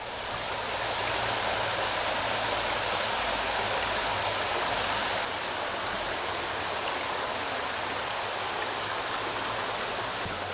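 The River Wear in Weardale, North Pennines, flows in a steady, broad rush of water that stays close and constant throughout, with no voices.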